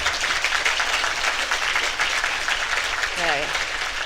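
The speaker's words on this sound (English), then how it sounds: "please give a round of applause to the self-proclaimed" A graduation ceremony audience applauds steadily in a large room, with a brief voice rising near the end.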